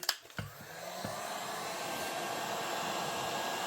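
A heat gun warms the crankcase half of a Stihl 026 chainsaw, its steady blowing roar rising after a few clicks and knocks at the start and holding evenly close to the microphone.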